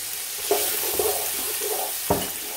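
Finely chopped carrots and green chilies cook in a pan under a soft, steady fry hiss, with a few distinct spatula knocks and scrapes spaced through it.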